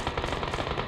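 Rapid automatic gunfire in a video game, a dense burst of sharp repeated shots lasting under a second at moderate volume.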